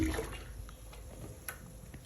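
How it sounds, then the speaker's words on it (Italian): Water runs from bathroom taps in a bathtub after a descaling flush of the pipes, a faint, steady rush with a few small splashes, and no talk. "passiamo tutti i rubinetti vedete che acqua che viene fuori"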